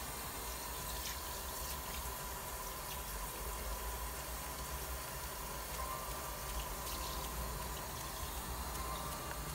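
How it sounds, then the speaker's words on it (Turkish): Plenty of water streams steadily onto akadama bonsai soil during repotting, a constant, fairly close hiss and splash that holds unchanged for nearly ten seconds without any talking. "İyice bolca suluyoruz."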